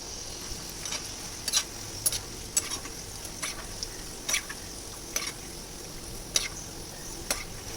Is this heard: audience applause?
no